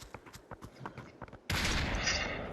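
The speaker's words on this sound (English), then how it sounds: "they're shooting at us because we're at the drop" Burst of rapid gunfire in the VR battle game Population One, erupting abruptly after quieter sounds and holding as a loud, dense volley through the rest of the moment.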